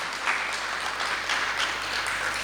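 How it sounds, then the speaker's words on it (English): Brief, steady applause from the crowd at a job fair and career summit run by a Bangla women's network in Western Sydney, a dense wash of clapping without pauses. "give a big round of applause to Sydney Bangla Women's Network"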